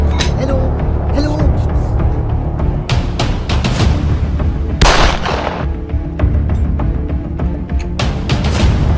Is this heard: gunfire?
yes